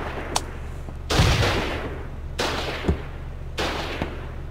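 In the war game Foxhole, three artillery shots go off in turn, each a heavy booming blast with a long rumbling tail, spaced about a second apart with no talk.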